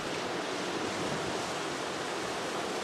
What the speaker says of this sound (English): the waves are just so tranquil